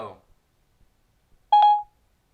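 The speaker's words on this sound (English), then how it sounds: "So we have that little doo-doo, that new sound there for Siri" Siri activation chime on iOS 7, a short two-note electronic tone that rings out clearly on its own after a brief spoken greeting.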